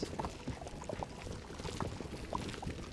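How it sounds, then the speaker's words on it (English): Bubbling water in the Fortnite video game: a faint, steady gurgle of small pops and bubbling, heard alone without talk. "I think it's bubbles."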